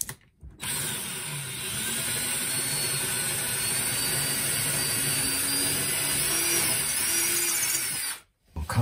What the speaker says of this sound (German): bevor ich die Löcher bohre.